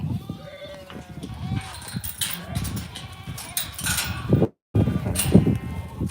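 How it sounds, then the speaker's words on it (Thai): Sheep bleat at a Thai sheep farm, several overlapping wavering calls at close range among shuffling and stirring, with someone talking over them. "อันนี้คือแม่แกะนะ"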